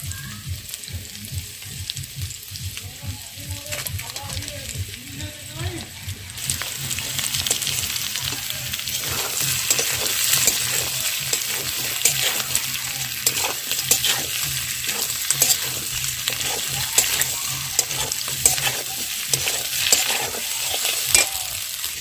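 Fried paneer cubes dropped into a sizzling potol paneer curry and stirred, with steady loud frying hiss and repeated scraping strokes of a spoon in the pan, continuous and close.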